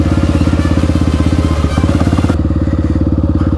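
Honda XR650R supermoto motorcycle riding along, its big single-cylinder engine thumping in a steady loud rhythm close by, with a brief dip in the pulse partway through before it carries on.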